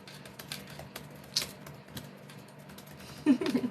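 Quick, light keyboard typing in short bursts, fairly faint against a quiet room background, with a brief louder knock near the end.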